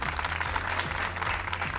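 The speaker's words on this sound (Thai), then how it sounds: "ขอเสียงปรบมือให้กับน้องเน็ตและเจเจด้วยครับ" A studio audience at a Thai reality show applauds performers, a dense continuous wash of clapping, loud and steady throughout.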